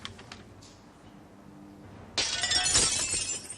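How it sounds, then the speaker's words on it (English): A window being smashed with a blunt object such as a table leg: after a quiet stretch, a sudden loud crash of breaking glass bursts out and carries on as shards scatter and tinkle for over a second. "He smashed another window."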